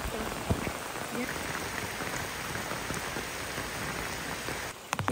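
Heavy rain pours steadily at a campsite at Kg Nyamok, Pos Sinderut, making a dense, unbroken hiss of drops close by.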